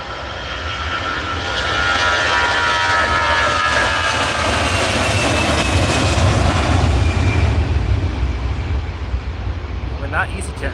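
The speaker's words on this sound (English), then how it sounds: "When that EasyJet throttled up there, that sounded a little bit broken at first." An EasyJet jet airliner's engines roar up to takeoff power at Edinburgh Airport, a broad rumbling wash that swells and holds steady, loud and fairly close.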